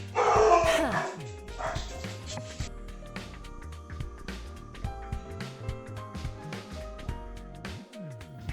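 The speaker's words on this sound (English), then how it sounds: "My dogs are going crazy." Dogs barking in the video game The Hundred Line: Last Defense Academy, with a few loud yaps up close at the start, then repeated barks continuing under game music.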